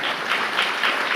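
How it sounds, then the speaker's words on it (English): A gathered audience claps together in a short, lively burst, many hands at close range with slightly pulsing rhythm and no speech. "We can clap now."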